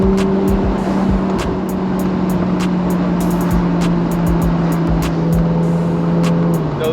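A Ferrari 488 Spider with a 7-speed dual-clutch gearbox accelerates hard, its engine a loud sustained drone broken by rapid ticking clicks as the gears change quickly.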